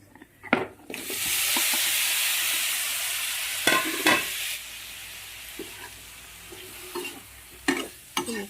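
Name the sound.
frying and stirring chopped tomatoes with spices in a pan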